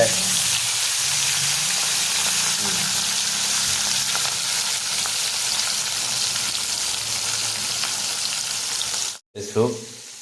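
Rohu fish frying in oil for a Manipuri-style fish curry, a steady loud sizzle that fills the scene for about nine seconds, then breaks off briefly before resuming.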